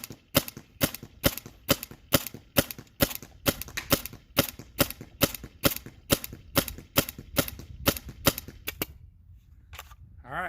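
An air rifle running a First Strike Half Pint tank fires EMF100 shots: sharp, loud cracks in a fast, steady cadence of roughly twenty, then a brief pause and two more shots.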